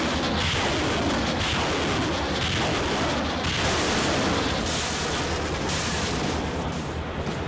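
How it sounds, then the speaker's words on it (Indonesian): Heavy artillery cannon and rocket fire from three Indonesian Army field artillery units during a military exercise, a loud, continuous barrage of overlapping booms and rumbling blasts with no pause. "Gelegar, dentuman meriam, dan roket pun menyalak silih berganti."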